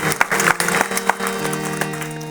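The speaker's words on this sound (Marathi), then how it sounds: "माझ्या दोन्ही गायनाचार्य आणि मृदंगाचार्यासाठी सर्वांनी टाळ्या वाजवल्या पाहिजे" A short burst of audience clapping for the singer and the mridang player at a kirtan held during a Bhagwat week gathering in Ghusar. Scattered claps sound over a sustained drone-like tone.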